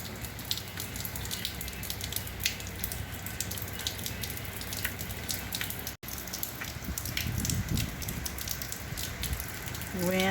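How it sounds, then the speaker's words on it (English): Steady rain falls with gusting wind ahead of Hurricane Ida, a dense continuous hiss and patter outdoors, loud and unbroken apart from a momentary dropout. "The rain is beginning to pick up."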